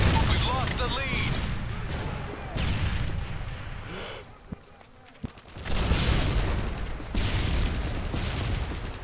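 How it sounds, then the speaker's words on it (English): Explosions and gunfire from a Call of Duty: MW3 team deathmatch on the Lockdown map, loud booming blasts and bursts of shooting, with a voice talking over the action. "Friendly Predator missile inbound."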